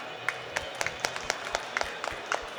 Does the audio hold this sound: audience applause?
yes